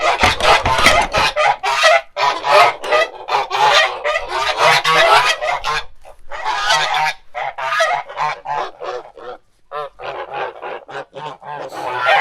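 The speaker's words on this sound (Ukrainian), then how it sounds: "Зараз випустимо гусей" A flock of geese honking loudly and continuously, overlapping calls in busy bursts, close by, with brief gaps near the end.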